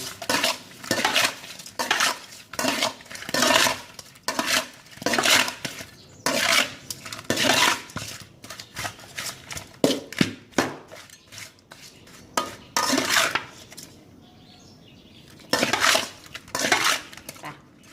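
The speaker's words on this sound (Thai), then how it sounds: "แล้วก็คนให้เข้ากัน" A metal spoon stirring seasoning mixed with white soy sauce in a pan, producing repeated close, bright clinks and scrapes in irregular bursts with brief quiet gaps, no talk.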